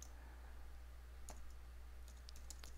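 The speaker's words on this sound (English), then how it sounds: "let me type this the way it is all together" Fingers type on a computer keyboard in a quiet room over a steady low hum, first one isolated keystroke, then a short quick run of soft clicks.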